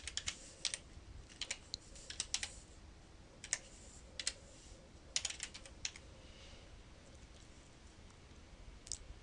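Someone types on a computer keyboard while entering domain nameserver details, producing quiet, close bursts of sharp keystrokes separated by short pauses.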